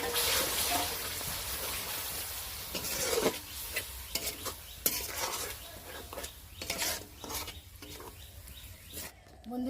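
Coriander and tomato paste pickle with lime juice cooks in a pan, its soft sizzle broken by irregular scraping and stirring strokes, fairly quiet overall, with no speech.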